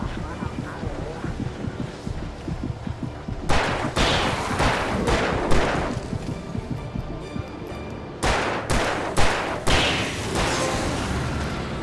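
Revolver gunshots ring out in Alan Wake Remastered, two clusters of sharp, loud cracks amid game ambience and combat noise, with bursts near four and nine seconds.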